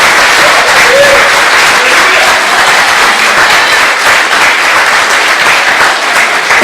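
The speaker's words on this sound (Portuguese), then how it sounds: "Pode aplaudir o Senhor" A church congregation at a Sunday service claps loudly and steadily for the whole stretch, a dense wash of many hands close by.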